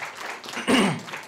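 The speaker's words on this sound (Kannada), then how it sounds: "ನಮ್ಮ ರೂಪೇಶ್ಗೆ ಜೋರಾಗಿ ಬರ್ಲಿ ಚಪ್ಪಾಳೆ" Audience applause for a filmmaker at a Tulu and Kannada film song launch event, a steady patter that swells into a louder burst of clapping and cheering midway, then eases back.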